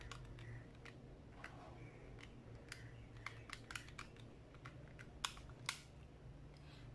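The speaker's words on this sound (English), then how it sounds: "you just directly type this into your calculator" Rapid irregular clicks of numbers being keyed into a calculator for a physics problem, soft and close, spread across several seconds over a quiet background hum.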